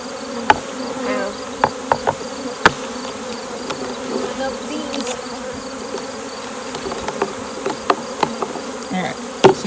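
Honeybees buzz in a dense, steady swarm as frames are shaken into a box during hive testing, with sharp knocks and taps of equipment scattered through the drone.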